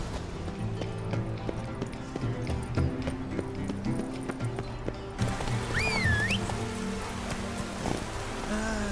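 Geralt's horse Roach trots in The Witcher 3, steady clip-clop hoofbeats on ground with a brief whinny, under background music.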